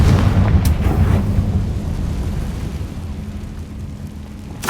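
In the game Hogwarts Legacy, a Confringo blasting spell goes off as a loud, close explosion with a heavy booming rumble that slowly decays over several seconds, ending in a sharp crack at the finish.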